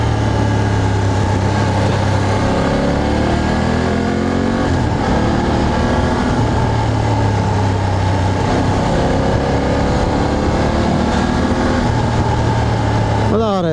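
A 2026 BMW F800 GS motorcycle engine drones steadily while riding, its pitch rising and falling with the throttle under rushing wind, with someone talking over it.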